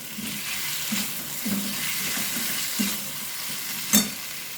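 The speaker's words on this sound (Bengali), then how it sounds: "এটা ভালোভাবে আমি কষতে থাকবো।" Spiced chhana masala being sautéed in a pan, with a continuous sizzling fry and periodic scrapes and stirs of a spoon against the pan, close and steady, with no talking.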